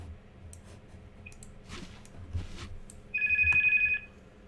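A telephone rings inside a video game set in the 1937 Battle of Guadalajara, heard as a brief, bright electronic ring burst against quiet game background sounds.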